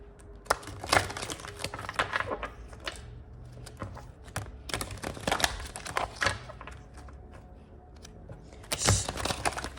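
Karma cards shuffled and handled for a tarot reading, a close series of sharp crisp snaps and riffling clicks in irregular bursts, with no talking.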